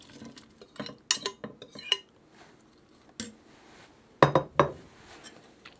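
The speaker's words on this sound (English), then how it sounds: "And the beef, bacon, and onions go back in." Beef, bacon and onions tipped back into a pot of carrots and garlic, heard as scattered clinks and clatters of metal against cookware with quiet gaps between, clustered near the start and again toward the end.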